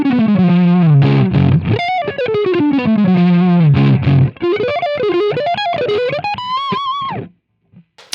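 An electric guitar played through the Pod Go amp and cab models with no effects gives a sustained, driven lead line with bends and vibrato, loud and alone, ending with a brief pause.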